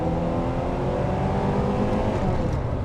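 A Porsche 928 drives with a steady, loud engine drone heard from close by, holding a rough, even tone over a few seconds as the car runs through a slow gearbox.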